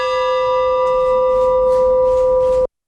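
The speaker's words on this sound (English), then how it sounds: "The International Chamber of Commerce rang the opening bell to commence trading at the Colombo Stock Exchange recently" The opening bell rings at the Colombo Stock Exchange to start trading, a loud, sustained bright metallic tone with faint repeated strikes layered over it, held steady for over two seconds before stopping abruptly.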